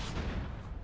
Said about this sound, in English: Okay, there was an explosion on the roof.